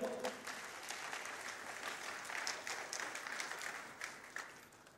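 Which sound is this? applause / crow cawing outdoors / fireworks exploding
applause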